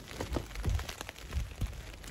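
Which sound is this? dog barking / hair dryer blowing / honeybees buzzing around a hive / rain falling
rain falling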